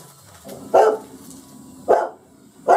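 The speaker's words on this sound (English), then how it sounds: "Dog's protecting the property, as always." A dog guarding a rural property barks three times at spaced intervals, moderately close, over faint background noise.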